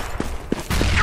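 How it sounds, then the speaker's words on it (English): Video game gunfire from Counter-Strike: Global Offensive, heard as a few quick sharp shots spaced within about a second against a busy game background. "Three of them were shooting at me."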